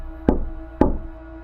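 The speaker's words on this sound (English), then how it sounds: "every summer someone heard knocking from inside" Two sharp knocks on a wooden cabin door, about half a second apart, each a solid thud with a short ringing decay over a steady low hum.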